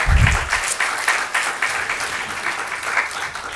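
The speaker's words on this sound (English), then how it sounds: "for that you deserve a big round of applause" Audience applause at the inauguration ceremony of a literary festival, a dense steady wash of many hands clapping that carries on evenly throughout.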